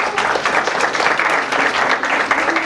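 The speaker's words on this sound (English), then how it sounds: "Let's give her a big round of applause." An audience of families claps for a performer at a children's magic show in a library, a brisk, close burst of applause lasting a few seconds.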